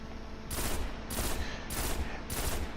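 Four evenly spaced bursts of rapid rifle fire from a pulse rifle in the game Destiny, fired at the Hopscotch Pilgrim at full stability, each volley a dense crackling rattle over a steady game ambience, no talking.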